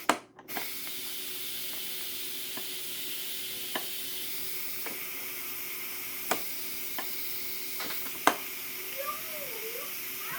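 Steam hissing steadily from the release valve of a Pampered Chef Quick Cooker pressure cooker making vegetable beef soup, a constant airy rush with a few sharp clicks and taps over it, no talk.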